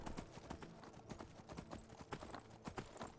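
A Daedric horse in Skyrim trots with quick, rhythmic clip-clop hoofbeats, steady and fairly faint, with no voices over them.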